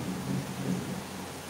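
Heavy rain hiss with a low rumble of thunder during Tropical Storm Grace in Jamaica, a continuous moderate wash with the deep roll swelling and fading across the moment, no talking.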